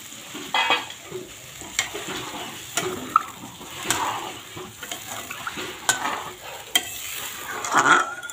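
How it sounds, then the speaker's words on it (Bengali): Water goes into a pan of frying spices for a thin katla fish curry, raising a loud, close sizzle and bubbling, with scattered scraping and stirring clatter. "এখন এর মধ্যে আমি জল ঢেলে দেবো, ঝোলটা দিয়ে দেবো"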